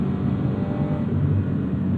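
A Toyota GR86 with an aftermarket exhaust drones steadily from inside the cabin, a loud, even low engine and exhaust note holding constant throughout.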